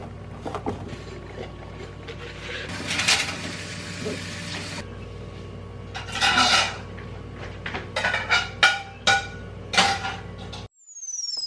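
Dishes and glasses being washed by hand, with scattered clinks and clatters of plates, cutlery and glassware and bursts of running water, close and uneven, ending in a sudden stop.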